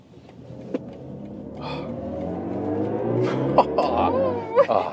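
A BMW i5 M60 Touring electric performance wagon accelerates, its motor and road noise building steadily to a louder, rising whine over about five seconds, with a few brief thumps near the end.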